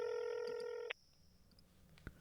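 A telephone gives one steady electronic ring tone, a held buzzy purr that cuts off abruptly after about a second, followed by near silence and a faint click.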